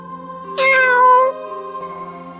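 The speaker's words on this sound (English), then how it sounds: "Oh, it's just a cat." A cat meows once in the Re:ZERO -Starting Life in Another World- The Prophecy of the Throne game, a clear drawn-out call of about a second, near and loud over a quiet game backdrop.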